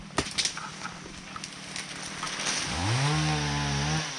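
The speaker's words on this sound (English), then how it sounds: "He has a chainsaw?" A chainsaw starts up and revs steadily during a bush-whacking quad ride, its rising engine whine holding loud and close for the last second or so after scattered rustling and knocks.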